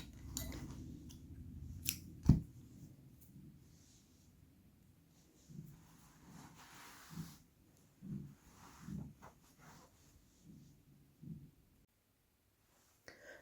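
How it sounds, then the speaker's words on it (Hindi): Scissors cut crochet thread with one crisp close snip early on, followed by soft intermittent rustling and handling of the yarn in a quiet room. "धागा काट देंगे"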